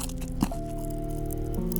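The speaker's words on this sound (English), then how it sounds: "So this chocolate, not only is it crunchy, but I think it has like some sort of like pop rocks in it." Crunchy chocolate laced with pop rocks is chewed close up, giving a couple of sharp crunches over a steady crackle and faint popping.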